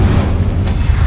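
Incendio fire spell cast in Hogwarts Legacy, a deep booming fiery burst that holds at steady loudness through a short moment, with no talking over it.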